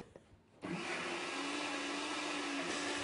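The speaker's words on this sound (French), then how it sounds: "on met nos pois chiches dans le bol de notre mixeur" A food processor blends cooked, drained chickpeas for hummus, starting abruptly after a short quiet moment and then running as a steady, loud motor whir until the end, with no talking.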